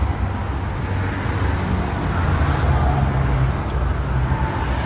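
A CAT D6R bulldozer with a four-way blade and six-cylinder diesel engine idles steadily nearby, a continuous low rumble with no voices over it.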